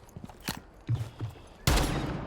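Shotguns boom in Rainbow Six Siege, a few loud, close blasts with brief gaps and then a final heavy shot that rings out, with faint footsteps between them.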